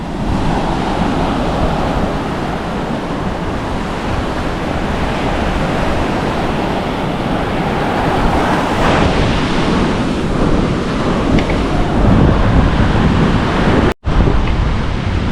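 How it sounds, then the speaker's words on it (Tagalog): Strong Pacific surf and rushing current at a tidal pool at Casiguran, Aurora make a loud, continuous roar with wind buffeting the microphone throughout, and no talking. "Ang lakas ng agos."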